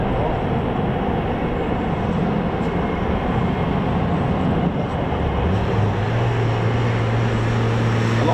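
An F-15 or F-35 fighter jet taxiing at RAF Lakenheath, a broad steady engine roar with a rising whine toward the end, loud and continuous from a moderate distance.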